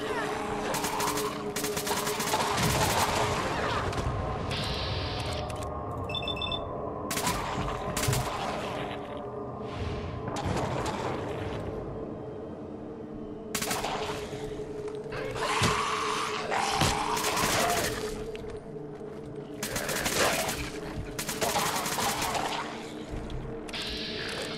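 An automatic modded M14 rifle with a suppressor and automatic receiver fires in Fallout 4, a long run of rapid muffled shots in repeated bursts over steady game background noise.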